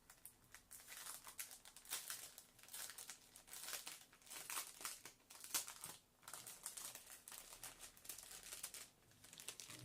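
Paper crinkles and rustles continuously as a scrapbooking exchange package is unwrapped up close, quiet but busy with irregular crackling bursts and no speech.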